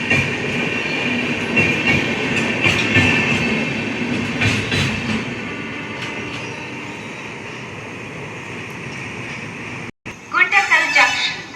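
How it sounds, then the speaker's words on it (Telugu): A Gandhidham to Visakhapatnam express train rolls past at a station, loud rumbling and clattering wheels with some squeal, fading toward the end before a brief break and a burst of nearby voices talking. "గాంధీధామ్ నుంచి విశాఖపట్నం వెళ్తుంది ట్రైన్ ఇది."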